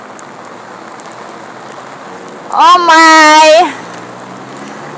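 Steady rain falls on a rainy day in Trinidad, a constant even hiss throughout, with a voice briefly exclaiming over it midway.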